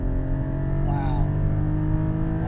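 A 2021 Porsche GT4 with PDK automatic gearbox accelerates hard, its engine note steady and strong from inside the cabin, loud and continuous.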